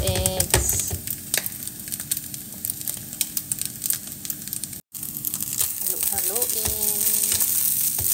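Two eggs frying in a pan with fried rice and sausage make a constant loud sizzle with crackles and scraping, while someone talks over it and it cuts out for a moment midway.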